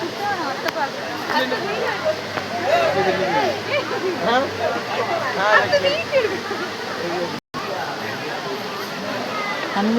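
Courtallam waterfall pours in a constant broad rush, with a crowd of people talking and calling nearby over the roar of the falling water.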